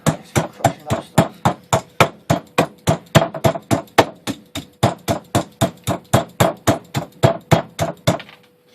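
A wrench crushes dry ice for refilling SodaStream CO2 tanks, landing a long, steady series of sharp, close metallic strikes at roughly three per second, each a loud crack with a brief ring, continuing without pause and with no talk.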